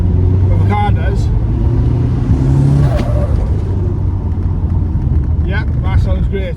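Engine of a forged Ford Focus RS under way on the road, a steady low rumble with some rising revs near the middle, continuous and close, with a voice talking over parts of it.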